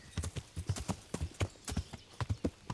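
Horse hooves clip-clop in a steady, quick gait in Kingdom Come Deliverance as a rider leaves a castle, each hoofbeat loud and close, with no talking over them.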